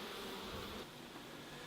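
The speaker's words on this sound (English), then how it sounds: "the honeybees dehydrate the nectar" Honeybees at a farm hive give off a soft, continuous buzzing hum, faint and steady, with no voices.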